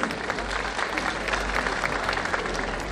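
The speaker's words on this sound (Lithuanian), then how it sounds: "Pasitinka plojimais." An audience at a grand festival concert applauds to greet a speaker, a dense, even clapping that carries on steadily for the full three seconds.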